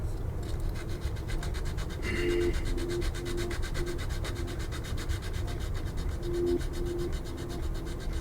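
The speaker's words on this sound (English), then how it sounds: "So now I'm sanding down that glue with my file." A file rasps back and forth against dried glue on a 1/72 scale model B-2A bomber in quick, steady strokes, close and continuous for several seconds.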